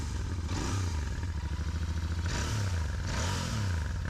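A stock Royal Enfield Interceptor 650 motorcycle engine revs up close in three quick throttle blips, each swelling then dropping back to a lumpy, throbbing idle, with no talking.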